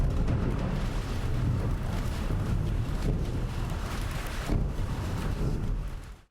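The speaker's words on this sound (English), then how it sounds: "What about a thunderstorm with thunderclaps and rain falling on a metal roof?" An AI-generated thunderstorm with thunderclaps and rain falling on a metal roof, heard as a dense, continuous roar with low rumbling swells that holds loud throughout before cutting off abruptly.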